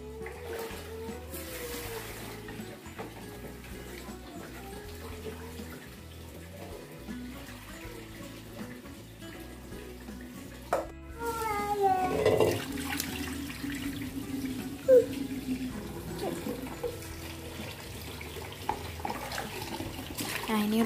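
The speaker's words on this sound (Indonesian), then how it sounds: "Nah ini udah selesai buat aku cuci berasnya, jadi langsung aja mau aku masak" Rice being washed under running tap water, with a steady faint stream that grows louder and splashier in the second half, amid clinks and a voice talking.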